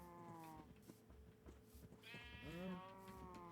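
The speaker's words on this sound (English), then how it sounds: "I think we lost a sheep." Sheep bleating in the video game Minecraft, two wavering bleats, one fading at the start and a louder one near the end, over steady background music with soft thumps.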